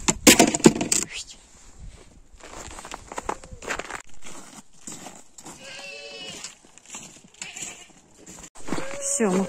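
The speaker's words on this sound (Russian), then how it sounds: "Идем резать козла." A large male goat wearing a collar bleats a couple of times, wavering calls rising over shuffling footsteps and clatter, with people talking nearby.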